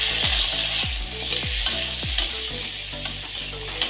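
Spices with Kashmiri chilli powder sauté in a pan for a shrimp and ridge gourd curry, a loud, close sizzle broken by repeated scraping stirs of a spoon against the pan.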